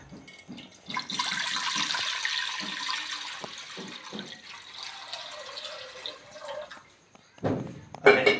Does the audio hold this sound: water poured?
yes